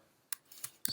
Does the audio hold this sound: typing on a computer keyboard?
yes